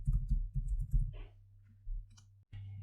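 Typing on a computer keyboard during setup of a WordPress site, with a quick run of close, crisp clicks early on over a steady low hum, then sparser taps.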